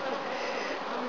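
Honey bees buzzing steadily inside an opened hive during an inspection, a dense, continuous drone close by with no talk over it.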